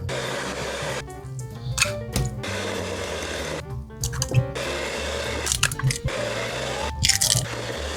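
Eggs being beaten one at a time into cake batter in a bowl with a mixer, giving a steady wet, squishy churning with several louder sloshing bursts as each egg goes in, no talking.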